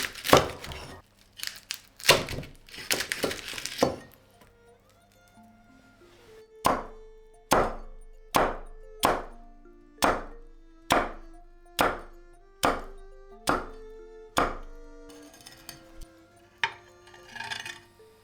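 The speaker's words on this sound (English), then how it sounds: "Cut the belly into small pieces." A knife cuts crispy roasted pork belly into small pieces. A crackly crunch through the skin comes first, then a pause, then about ten evenly spaced sharp chops on the board, close and clear, with no talking.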